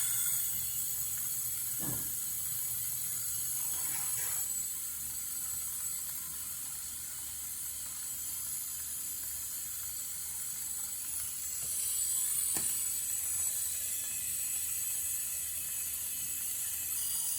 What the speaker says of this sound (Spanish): el compresor ahorita en estos momentos ya está trabajando a su velocidad máxima